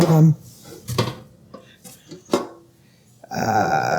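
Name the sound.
USA Pan bakeware pans and lid being handled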